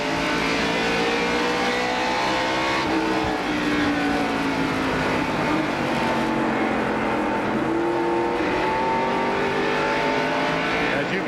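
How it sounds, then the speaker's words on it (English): In-car ride aboard a NASCAR race car during the 1989 Holly Farms 400, the engine roaring steadily loud throughout with shifting pitch as it runs around the track, no talk over it. "And we're riding with Harry now."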